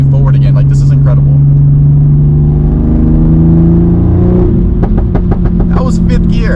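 A 500 horsepower Toyota Supra pulls hard from inside the cabin, a loud droning engine tone rising steadily in pitch until a gear change near the end drops it. A shift into fifth gear follows, with brief talk over the engine.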